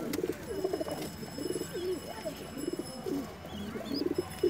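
Pigeons coo softly in repeated throaty bursts, several birds overlapping against a faint background hum.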